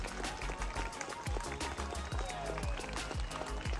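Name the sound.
crowd cheering and applauding at drone show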